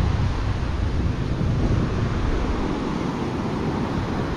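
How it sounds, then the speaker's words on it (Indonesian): Large surf at Tawang beach, Pacitan, keeps up a steady, dense roar with a continuous wash of breaking water and wind rumbling across the microphone, no speech heard. "Ombak di sini cukup besar,"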